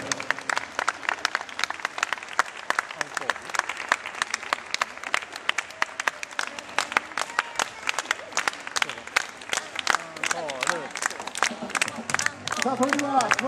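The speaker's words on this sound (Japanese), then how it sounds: "大きな拍手をお送りください" An audience applauds at a free outdoor live concert in front of the Big Step building in Osaka, dense and steady clapping throughout with faint crowd murmur beneath.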